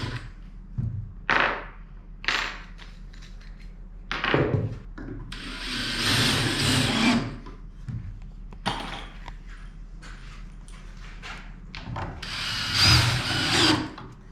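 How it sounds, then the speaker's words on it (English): A power drill drives screws into a wooden lumber storage rack, with several short whirring bursts and longer grinding runs separated by pauses, near and fairly loud. "putting the screws in now that will hang the rack onto the wall"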